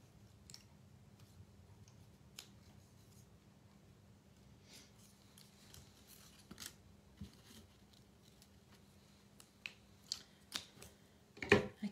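Scissors cut a piece of brown paper for a scrapbook page, with quiet, scattered snips and clicks that grow sharper and more frequent toward the end. Nobody speaks.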